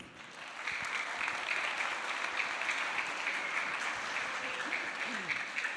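Steady applause from a crowd, sustained clapping that swells early and holds at an even level throughout.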